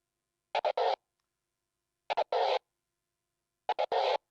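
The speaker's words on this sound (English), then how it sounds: "the first scratch in this drill is a crab scratch" Three quick bursts of turntable crab scratching, each a fast triple-chopped stutter from the fader followed by a longer swipe, evenly spaced with silence between, close and clean.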